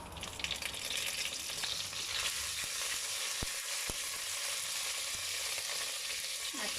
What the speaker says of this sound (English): When the oil is hot, I put in 1 teaspoon of cumin seed. Next, I'm putting in the curry leaves.